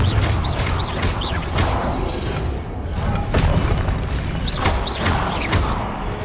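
Loud blasting bursts of the Confringo spell in Hogwarts Legacy boom over dense, rumbling game noise, several impacts in quick succession with a voice calling out spells.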